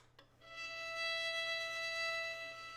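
A plain violin note held steady without vibrato, a clean, unwavering bowed tone that swells in after a brief start and sustains evenly.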